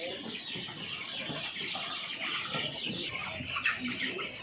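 Young cockerels about 52 days old cluck and call in a coop on a poultry farm, a steady, moderately faint flock chatter with occasional louder calls throughout.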